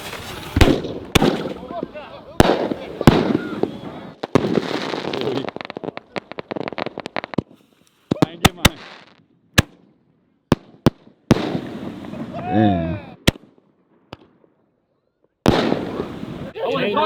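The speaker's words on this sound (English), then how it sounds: "And spent the night shooting off fireworks." Fireworks and firecrackers bang and pop at night, a string of sharp loud bursts at irregular intervals with crackling tails and short gaps of quiet between volleys, some near and some farther off.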